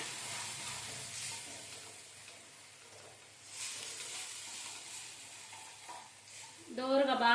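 Masala for a fish curry sizzles quietly in a pan, with soft stirring scrapes throughout and a brighter burst of frying near the end.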